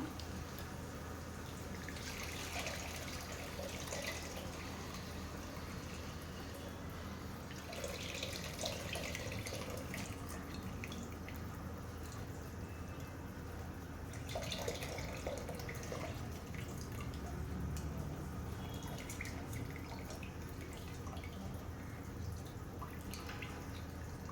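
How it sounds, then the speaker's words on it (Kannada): Tamarind water poured into a pot of fish curry, a steady close trickle and splash of liquid running throughout, without speech. "ಈ ಫಿಶ್ ಸಾರಿಗೆ ಹುಳಿ ಹಿಂಡಿದ ನೀರನ್ನ ನಾವು ಹಾಕ್ಕೊಳ್ಳೋಣ."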